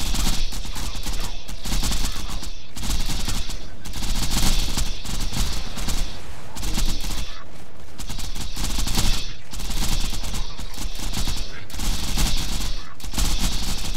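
A Flakker gun fires in Borderlands 2 with a slow, regular rhythm of loud, booming flak bursts, about one blast per second, each a dense explosive crack with a short decay, repeating steadily without speech.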